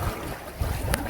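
Wind gusts buffet the microphone in a brief, rough rush of noise, with water sloshing faintly underneath on a boat.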